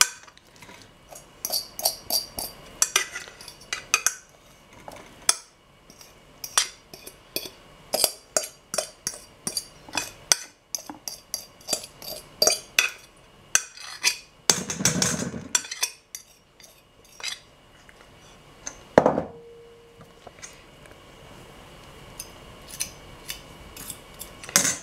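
Utensils clink and scrape against a bowl as crumbled tuna is stirred into a flan mixture: sparse, irregular taps and clatters, fairly quiet, with one longer rustle in the middle and no talking.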